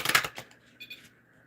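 Playing cards being shuffled by a psychic during a reading: a quick burst of crisp riffling flutters followed by a softer second riffle, close and fairly loud with no talk.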